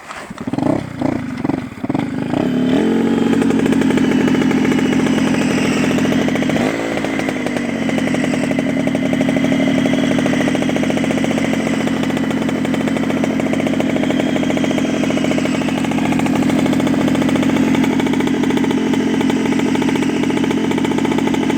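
A Peugeot 103 MVL moped engine sputters a few times, catches, and settles into a steady, loud buzzing idle that runs on without a break.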